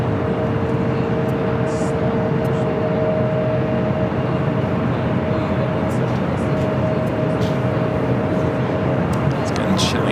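A Lufthansa jet airliner takes off from the south side runway at LAX, a steady, loud broadband engine roar with a faint tonal whine, sustained for the whole stretch.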